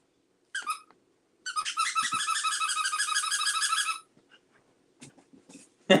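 A squeaky dog toy squeaks in a long, rapid run of bright repeated squeaks, preceded by a short squeak burst and followed by scattered faint clicks and a few brief squeaks.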